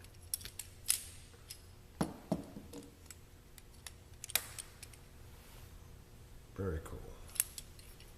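A flipper knife snaps open and shut, giving several sharp, close metallic clacks spaced a second or two apart, with a brief spoken remark in between.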